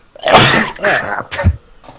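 A loud, close sneeze-like burst, followed by a couple of short throaty coughs or snorts, with no talking.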